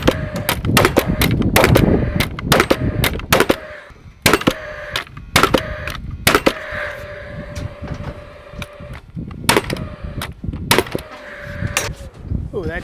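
A cordless framing nail gun driving nails into lumber while installing permanent bracing, a rapid series of loud, sharp cracks, some in quick bursts and others spaced apart, close by with a faint mechanical whine between shots.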